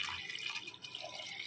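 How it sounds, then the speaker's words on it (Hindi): Water pours into a pan of potato and pea curry in a home kitchen, a soft, steady splashing rush that is faint and continuous, with no talk. "अब मैं इसमें डाल दूंगी पानी।"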